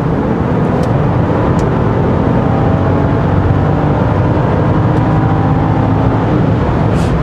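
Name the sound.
SUV engine under hard acceleration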